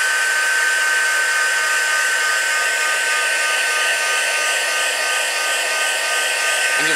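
A heat tool blasts steadily to heat-set craft ink on a stamped card, a loud, close, unbroken blowing hiss with a faint whine lasting the whole stretch.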